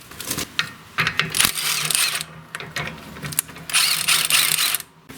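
Ratchet wrench turning a 13mm socket while working on a John Deere X-Series riding mower, giving several bursts of rapid close clicking separated by short pauses.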